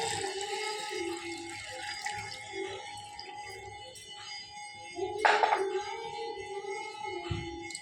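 Water is poured into a pan holding palm jaggery in a home kitchen, a faint steady trickle and splash with a brief louder gush partway through, close by and with no talking.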